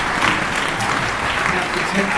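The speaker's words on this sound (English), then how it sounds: "greet the mayor with another round of applause" Audience clapping for the mayor at a pub history talk, dense steady applause from a crowd filling the whole stretch, close and fairly loud.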